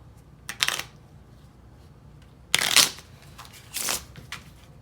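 Three short bursts of card shuffling, each a quick papery riffle, separated by pauses in a quiet room.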